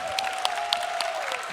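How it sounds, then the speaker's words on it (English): Audience applauding two players at an esports 1v1 tournament match, a brief burst of steady clapping with scattered sharper claps, close and fairly loud under a faint sustained tone. "Can we get a round of applause for these two players?"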